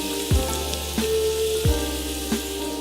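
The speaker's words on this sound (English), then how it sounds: "You wanna hear that nice sizzle." Garlic sizzling in a hot pot, a steady close frying hiss broken by a few sharp clanks of a utensil against the metal.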